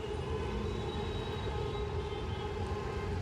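A metro train rumbles past steadily on an elevated track overhead with a continuous roar and faint high whine, close and loud throughout.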